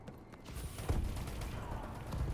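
A bombing run killstreak in Call of Duty: Advanced Warfare unleashes a dense rumbling barrage of explosions in an urban team deathmatch, rolling continuously with heavier thumps partway through.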